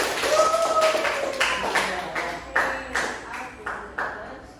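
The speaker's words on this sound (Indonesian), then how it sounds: "Tepuk tangan teman-teman." Children clap in a classroom in a patterned rhythm, a series of sharp, separated claps slowing toward the end, with a faint tonal ring early on.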